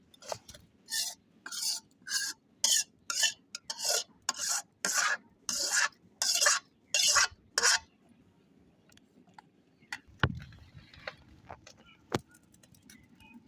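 Fish being rubbed by hand with mustard oil and turmeric spice in a village kitchen, a rapid series of close, rhythmic rasping rubs, then quieter scattered handling noises and a couple of sharp knocks.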